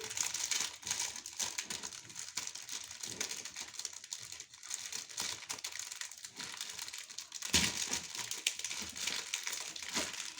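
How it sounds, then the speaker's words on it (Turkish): A package of Stabilo pens is unwrapped up close with continuous crinkling and crackling of plastic and paper, which swells louder near the end. "Şimdi paketinden çıkartıyorum."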